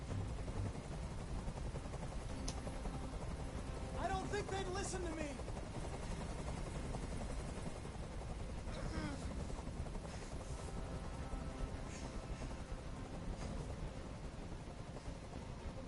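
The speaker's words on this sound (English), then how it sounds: "I can't stand that noise anymore. Tell that helicopter to get out of here." A helicopter hovers overhead with a constant, loud, wash of rotor and engine roar that runs through the whole stretch. A person speaks briefly over the noise.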